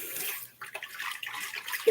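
Water poured into a large pan holding leftover pureed tomato sauce to rinse it out, a soft continuous trickling and splashing close by.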